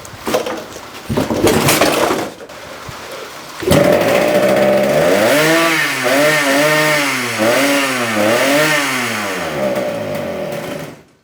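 A small go-kart engine sputters through a couple of short bursts, then catches and runs loud and close, its pitch rising and falling in repeated revs before easing off at the end.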